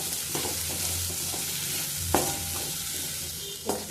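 Spicy potato fry with coriander leaves being stirred in a sizzling pan, a steady crackle of frying broken by a few sharp scrapes of the spoon against the pan, close and alone.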